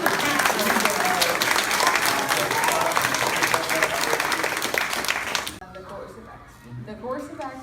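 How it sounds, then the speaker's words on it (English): Audience applause at a school walk-through performance on the American Revolution, a dense sustained clapping that fills the first five seconds and then drops off sharply, leaving faint scattered claps and murmur. "A big round of applause."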